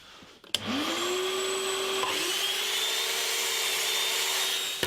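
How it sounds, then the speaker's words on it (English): A power saw set to cut only partway through a piece of wood spins up abruptly and then runs with a steady, close whine while it cuts a slot for a guitar-building jig. "What I'm going to do is cut a slot in this piece of wood"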